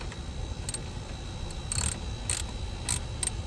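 Ratchet wrench tightening a bolt during spark plug and ignition coil work on a 2017 Toyota Sienna, heard as a few quiet, brief clicking bursts against a low background hum.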